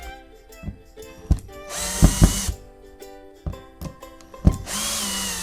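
A new door holder part is fitted on a Truma camper trailer door, with bursts of a small power tool, ratcheting clicks and knocks between short pauses, close and fairly loud.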